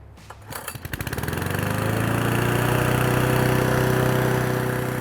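A small lawn mower engine is pull-started with the choke on: a brief rattle of cranking gives way to a loud, steady, buzzing idle close by that holds to the end with no talk.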